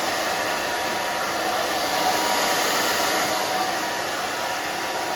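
A hair dryer blasts steadily, drying the back of a thick-haired pixie cut on a woman over 50, a loud, even, continuous whoosh close by with no talking.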